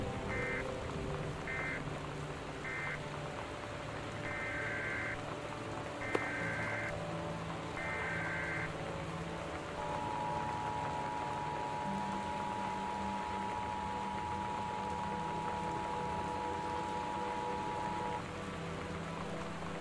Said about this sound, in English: The Northwest Weather Service reports high winds and torrential rain conditions affecting the following counties